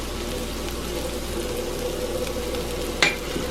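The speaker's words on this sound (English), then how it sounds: "And make your roux," A roux of butter and flour cooks in a pan for a chicken corn chowder, giving a steady low sizzle with one brief utensil clink near the end, close and even, with no talking.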